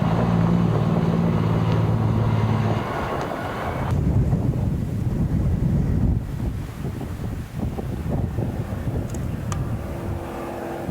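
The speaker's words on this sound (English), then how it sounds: "the wind picks up in intensity" Strong wind buffets the microphone in a steady, roaring rush over a low background rumble at a remote South Island fertiliser-trucking site.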